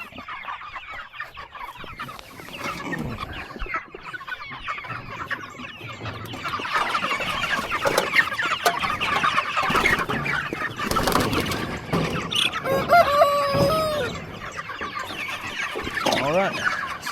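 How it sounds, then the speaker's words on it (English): Pastured meat chickens in a chicken tractor cluck and chatter right beside the camera, with a steady stream of murmuring calls, rustling and a few sharper squawks as the pen shifts across grass. "I have a chicken on my camera"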